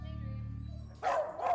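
Five rescue puppies off a flight from Dubai bark at an animal airport, a few sharp yaps and yelps near the end after a steady mechanical hum, close and fairly loud.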